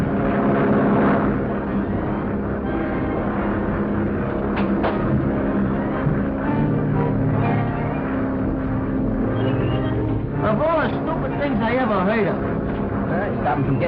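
A small ambulance plane's engine drones steadily in flight throughout this 1941 aviation film scene, a constant loud hum with voices speaking over it.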